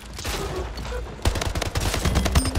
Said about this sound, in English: What do you think you're doing with that shotgun? Completely just shooting.